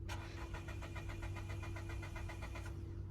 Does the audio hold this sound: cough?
no